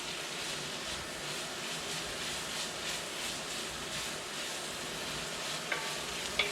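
Tomato paste stirred into vegan sausage and peppers frying in a pan, a continuous close sizzle with soft scraping strokes, no voices.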